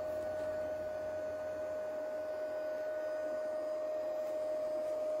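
Cooling fans inside a Dahua network video recorder whir in a steady, unbroken drone with a clear tonal hum, close and constant throughout.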